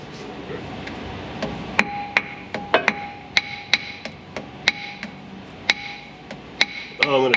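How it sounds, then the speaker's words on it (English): Metal hammer strikes while belts are forced onto a CAT 3126 diesel engine in a workshop: a dozen or so sharp, irregularly spaced clanks ring out close by, ending in a quick rattling flurry. "I hammer belts on"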